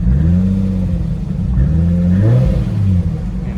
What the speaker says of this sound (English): the revving is fine.